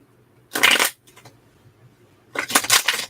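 A deck of cards is riffled twice for a reading, with two crisp bursts of rapid flutter about two seconds apart and quiet in between.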